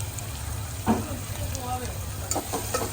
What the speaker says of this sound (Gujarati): નાખ્યા બાદ હવે નાખીએ આપણે કટિંગ કરેલા મરચા